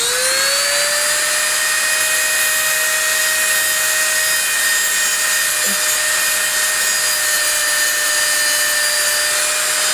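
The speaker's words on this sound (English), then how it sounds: "the flat end, we're going to flatten some of the screws." A Dremel rotary tool grinds the ends of screws flat on a Gundam-style mech scale model, giving a steady, loud high-pitched whine that holds one even tone throughout, with no talking.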